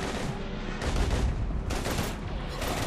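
Sustained gunfire in the video game Mass Effect 3, dense overlapping bursts of automatic shots and impacts filling the scene loudly and continuously, with a heavier cluster of blasts around the middle.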